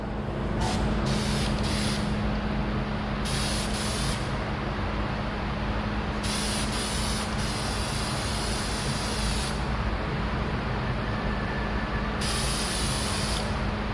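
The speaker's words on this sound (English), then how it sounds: "Let's go do some spraying." A spray gun lays flake paint onto a plywood test piece in short hissing bursts of a second or so, separated by pauses, over a constant low compressor hum.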